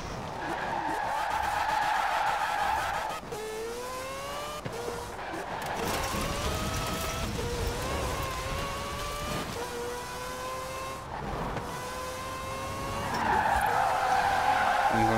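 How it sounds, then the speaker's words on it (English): A car drifts and skids in Forza Horizon 4, its tires squealing in long sliding wails over a steady engine roar, with a brief break partway through before the engine surges louder again near the end. "Trying to drift a car that probably shouldn't be drifting, to be honest."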